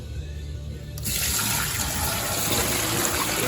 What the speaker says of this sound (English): let's dump the dirty water from phase 2.